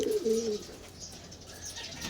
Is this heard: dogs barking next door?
no